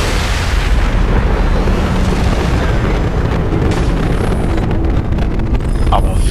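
A big, rumbling explosion in Mass Effect 2 roars continuously and loudly, with crackling debris and a brief high tone near the end.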